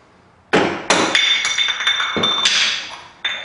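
Sharp metallic hammer strikes knocking the grease cap off a golf cart wheel hub, an EZGO TXT, being reused on new spindles; a few loud ringing clinks spaced irregularly, close up, with no talking.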